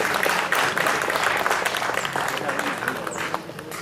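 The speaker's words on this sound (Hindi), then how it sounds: "एक बार फिर से जोरदार तालियां हो जाएं।" An audience claps enthusiastically at a district-level school talent search event after a student's presentation, producing a loud, dense burst of applause that gradually eases off, with some voices mixed in.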